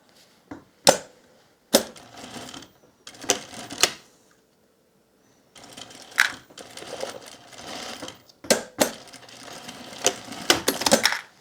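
Sewing machine basting a raincoat hood at a quarter-inch seam, running in short bursts of rapid stitching separated by pauses and a longer gap, with occasional clicks between runs.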